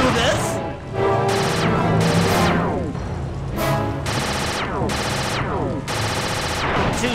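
Rapid bursts of turret gunfire from a blimp in the Sly 2 video game, loud and close, firing in repeated volleys of about a second each with brief gaps between them.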